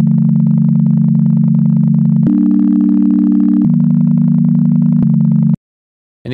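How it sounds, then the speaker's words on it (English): A pure, loud sine tone from the Serum synthesizer holds steady, stepping up and down in pitch a few times before cutting off abruptly into silence. "which loads a sine wave on the first waveform"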